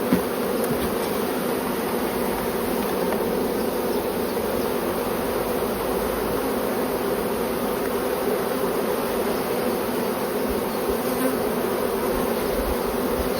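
Honeybees from a hive swarm in a dense, continuous buzzing drone throughout an open hive inspection, loud and close with no let-up.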